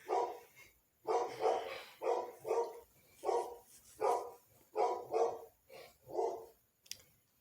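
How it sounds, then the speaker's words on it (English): A dog barks steadily and loudly nearby, about a dozen sharp barks in uneven pairs and singles, with a faint click near the end; no one speaks. "Why is the dog barking?"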